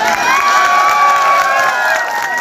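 A crowd at a political party joining event cheers and shouts loudly and continuously in welcome, a dense roar of many voices with possible clapping mixed in.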